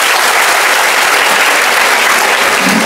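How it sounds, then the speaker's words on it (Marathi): An audience at a motivational speech event in Maharashtra bursts into loud, dense clapping. The applause holds steady for about three seconds with no voices over it. "एकदा जोरदार टाळ्या होत्या स्वतःसाठी"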